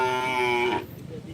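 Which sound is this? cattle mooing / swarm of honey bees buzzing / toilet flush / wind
cattle mooing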